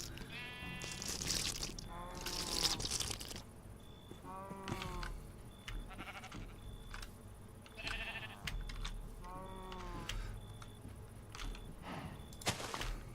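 Sheep bleat repeatedly in Minecraft, several wavering cries spread through the scene over game ambience, footstep crunches and repeated short blips, with no talking over them.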